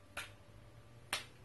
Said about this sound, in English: Clap to get ready.